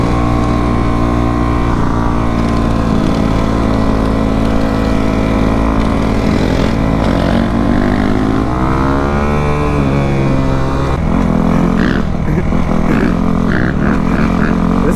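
A Kawasaki KX450F dirt bike engine runs loud and close for the whole stretch, a steady harmonic drone that shifts pitch midway as the revs rise and fall, with no talk over it.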